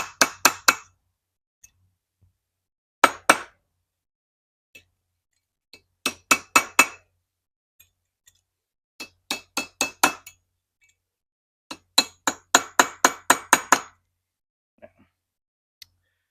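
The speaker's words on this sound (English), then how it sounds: "Just get yourself a little hammer and a punch." Sharp metallic taps of a small hammer on a punch, driving a part into a turbo, in quick bursts of three to seven strikes, separated by pauses, crisp and close with silence between.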